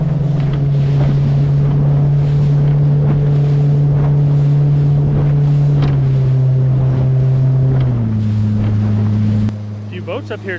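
A motorboat engine drones loudly and steadily nearby, its pitch dropping in steps as it slows, with wind noise over it.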